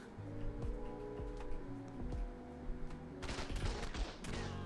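Automated turret gunfire on a beach in ARK Survival Ascended, rapid bursts of sharp shots with clicking impacts over game ambience and a low droning background, moderately loud and with no talk.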